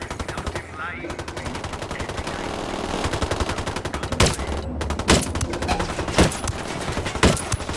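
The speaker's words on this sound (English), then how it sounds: "Opening fire on these fuckers." Gunfire in Ghost Recon Wildlands crackles in rapid automatic bursts, with several sharper, louder shots standing out against a continuous rattle of weapons fire throughout.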